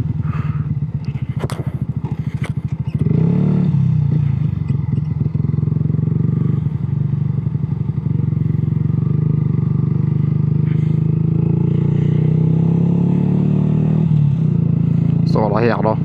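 A motorcycle climbs a hill at around 30 km/h during a Norwegian road test, its engine droning loudly and steadily up close with wind rumble, while a rider talks over it throughout.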